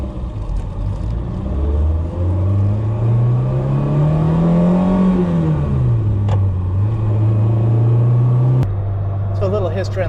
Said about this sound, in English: We're going to take it for a short drive on Mercer Island.